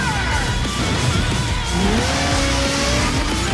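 Cars race in an anime-style racing video game, with continuous loud engine whine rising and falling, overlapping revs and tire skids as they drift, with no voices.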